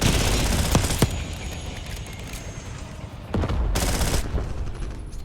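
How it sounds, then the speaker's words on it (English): Rapid automatic gunfire bursts in Call of Duty: Black Ops 6, loud close fusillades with short pauses between, plus heavy thumps and background battle rumble. "They just started shooting at each other"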